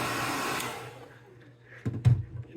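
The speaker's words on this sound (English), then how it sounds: "This is my wife's blow dryer." A hair dryer runs with a steady broadband whoosh and low motor hum for most of the stretch, then eases off before a couple of short louder bumps near the end.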